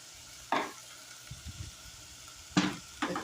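Beans go into a sizzling pot for plant-based taco soup and get stirred, with a few distinct bursts of sizzle and spoon scrapes against a quiet background, close and without speech.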